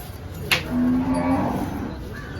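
A single drawn-out moo from a Gir cow at a busy cattle market, close and clear over faint background murmur, preceded by a brief sharp click.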